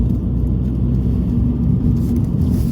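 A car engine hums steadily during a gear change on a driving test, a low, close rumble holding fairly even with slight shifts in tone, no speech.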